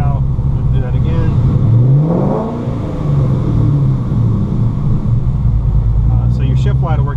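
A Ford car engine revs up to about 2,500 RPM, with a rising and falling drone that holds steady for a while. Someone talks over the engine for most of the stretch.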